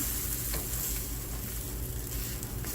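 Broccoli patties frying in a pan, giving a steady, close, continuous sizzle and crackle with faint stirring or scraping sounds, no voices.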